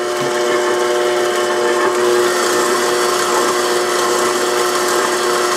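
A stand mixer with a paddle blade runs at low to medium speed, combining herbed cracker dough of flour, salt and a little butter, giving a steady, even motor whir with a constant hum throughout.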